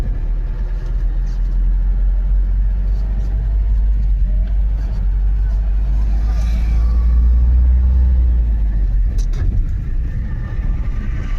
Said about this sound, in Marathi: हां पहिल्यांदा आपण गाडी चालवतोय पिकअप.